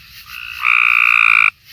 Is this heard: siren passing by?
no